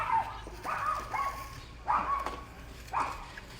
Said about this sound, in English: Puppy going nuts at the back.